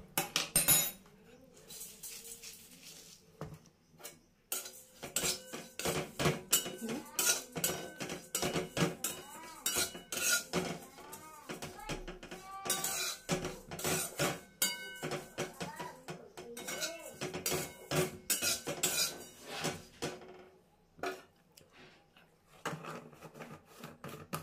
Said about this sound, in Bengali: এবার এই ওটসটা নিয়ে এটাকে প্রথমে আমি শুকনো কড়াই একটু নেড়ে নেব।